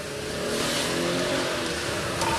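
A car engine revs up and accelerates, a steady loud roar that holds and slightly builds as the vehicle pulls away.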